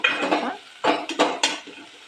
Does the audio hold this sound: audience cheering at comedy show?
no